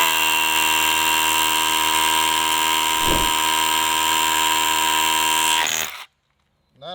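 A Ridgid Octane brushless 18V SDS-Plus rotary hammer runs loud and close with a sustained whining motor buzz, a brief deeper thump near the middle, then cuts off abruptly into near silence.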